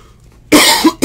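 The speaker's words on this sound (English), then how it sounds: "So disgusting, I had to cough." A single sharp cough, close and loud, followed by a shorter second cough after a quiet moment.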